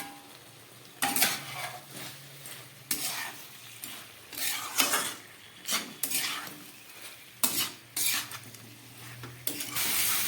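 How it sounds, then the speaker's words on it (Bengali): Soybean curry with fried papaya and potato stirred in a pot: repeated loud scraping stirs in bursts roughly every second or two over a low simmering sizzle, no voices. "কষাচ্ছি সয়াবিন"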